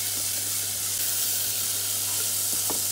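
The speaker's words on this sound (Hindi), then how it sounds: "देखिए अब मैं इसे भी भून रही हूँ" Soya nugget and vegetable mixture for shammi kebabs fries in a pan with a constant close hissing sizzle, a low steady hum beneath and a few faint stirring taps.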